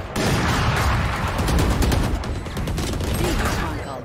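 Loud, dense gunfire in the tactical shooter game Valorant, with a continuous barrage of overlapping shots and crackle filling the whole stretch with no pause.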